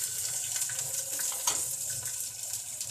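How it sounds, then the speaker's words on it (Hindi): Cooking oil poured into a pot over onions while making white chana masala, giving a steady, close liquid rush with faint sizzling for about three seconds, no voices. "अब इसमें ऑयल डालेंगे"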